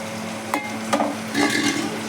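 Tomatoes fry in a pan while being stirred, giving a soft steady sizzle with a few scraping strokes of the spoon, close by with a faint background hum and no talk.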